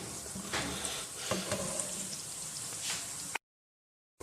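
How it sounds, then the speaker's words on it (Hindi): Steady crackling sizzle of garlic frying in hot oil, close and continuous, with a few louder pops before it cuts to silence. "इसको हल्का सा इसके अंदर करेंगे फ्राई।"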